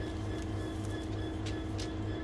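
A freight container train sits in a rail yard, its engine giving a steady low mechanical rumble with occasional metallic clanks and hisses, close and continuous with no speech.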